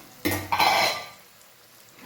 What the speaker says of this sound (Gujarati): ખાલી આપણે આ મસાલા નાખીશું. બસ મિક્સ કરી લઈએ.